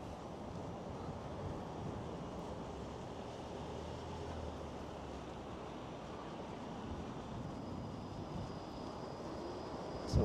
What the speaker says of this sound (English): Hopefully once we start heading east, the wind won't be trying to blow me over.